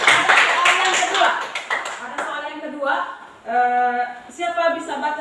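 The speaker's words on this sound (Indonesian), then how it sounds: "mari kita tepuk tangan untuk semua" Students in a classroom clap together for their classmates, a burst of brisk hand claps at the start that gives way to a voice speaking over the fading applause.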